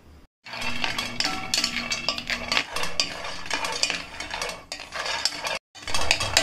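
Almonds dry-roasting in a pan over low heat while being stirred, giving a steady busy clatter and scrape of nuts and utensil against metal, with two brief pauses in the stirring.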